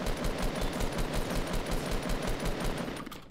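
Fortnite gunfire rattles in a sustained fast automatic stream, loud and dense, easing off near the end of the burst.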